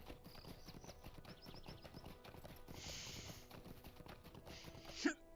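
Pony hooves clip-clop steadily in the Lord of the Rings Online video game, a quick, regular run of light hoofbeats with gear-like mechanical clicks and a brief sharp sound near the end.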